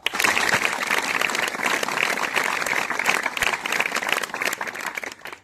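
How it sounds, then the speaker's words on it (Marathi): An audience of school students claps on command at a police raising-day weapons display, a dense, loud burst of applause that keeps up evenly for about five seconds before stopping. "टाळ्या वाजवा"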